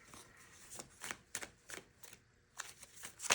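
Tarot cards being shuffled by hand during a card reading, a close series of irregular soft riffling and slapping bursts with short pauses between them, and no talking.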